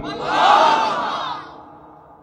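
A gathered crowd at a Bangla religious gathering answers a takbir call, chanting "Allahu Akbar" in one loud, unified roar that swells quickly and fades over about two seconds.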